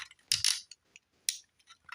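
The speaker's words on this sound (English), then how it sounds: "Ratcheted knee joint" A ratcheted knee joint on a Transformers Combiner Wars Devastator toy gives sharp, close plastic clicks in a few quick bursts, the loudest two spaced about a second apart, with fainter ticks between.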